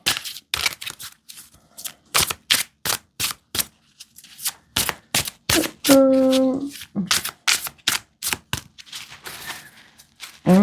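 Tarot cards are shuffled in repeated quick riffling bursts, a steady rhythm of soft slaps and rustles close by, with a brief tonal chime midway.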